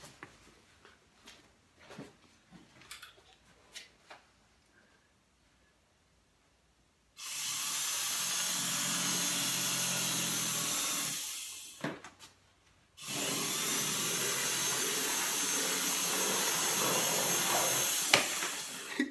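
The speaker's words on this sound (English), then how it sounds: "I'm going to show you real quick how that machine cuts that William sent me." A cutting machine slicing OD green canvas, with a loud steady whirring buzz that runs about five seconds, pauses briefly, then resumes for another stretch, after quiet rustling handling sounds.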